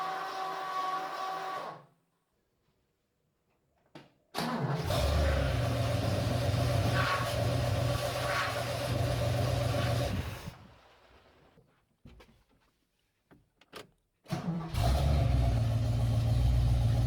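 A Ford XC Fairmont GXL engine, run again after 18 months, cranks and fires into a steady, close rumbling idle, cuts out, then catches and runs once more after gaps of silence.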